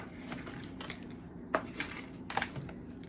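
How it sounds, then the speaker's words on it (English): A spoon scrapes and clinks against a pot while stirring Southern-style candied yams, a few light metallic taps and scrapes spaced out over a soft background. "Now, I'm just going to give a quick stir, right?"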